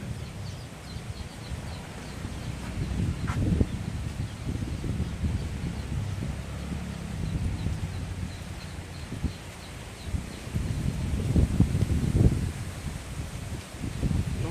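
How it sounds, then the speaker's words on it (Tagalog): Strong wind blows steadily outdoors on a farm, with low gusty rumble against the microphone and rustling leaves, occasional louder bursts. "Malakas yung hangin ngayon dito sa amin guys"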